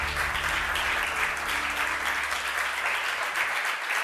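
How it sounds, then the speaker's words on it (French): An audience at an award ceremony in France applauds steadily, a dense, even wash of clapping that holds at full strength and fades slightly at the end. "et Olivier Leduc, le directeur de Réparseb, que vous pouvez applaudir."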